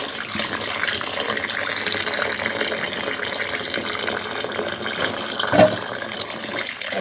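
Pointed gourds, scraped and seeded, are washed under a running kitchen tap, water splashing steadily and close with small knocks as the vegetables are handled, no talk.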